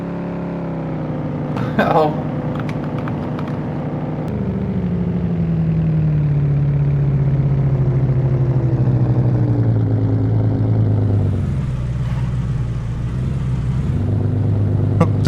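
A car engine drives steadily in the video game DayZ, a loud, continuous mid-pitched hum whose pitch slowly sinks and then shifts, heard close throughout with a brief exclamation over it.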